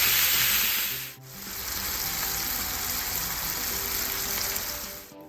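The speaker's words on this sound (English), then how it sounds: "And I'll fry this until it gets nice and crispy" Bacon pieces crisping in a hot pan for a bacon quiche, a steady loud broadband sizzle that briefly dips near the start and end, close by with no talking over it.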